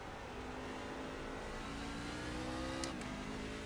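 A truck's engine in the iRacing game holds a loud, steady drone, then the pitch drops sharply as it downshifts at the last moment, with a brief high chirp just before.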